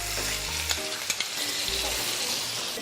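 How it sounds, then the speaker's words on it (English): A tablespoon of butter sizzling in a hot pan for a lemon butter sauce, a close, steady hiss with faint stirring scrapes throughout. "Now we'll add a tablespoon of butter to it,"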